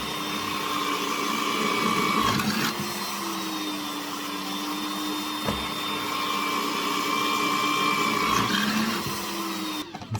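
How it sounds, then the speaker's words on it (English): Drill press boring a row of holes in wood for T-track, a steady close whirring motor drone with a brief bite and pause between holes. "And then it's easy for me to just go along and drill the holes."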